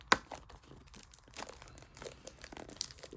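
Taped cardboard packaging of a Pokémon booster box being opened up close: a sharp tape rip at the start, then scattered crinkling and crackling of tape and cardboard, with no one talking.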